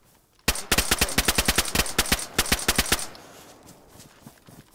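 Rapid gunfire rings out in DayZ, a fast burst of many sharp, loud shots in quick rhythm, then a short pause and a second burst before echoes fade into quiet background noise.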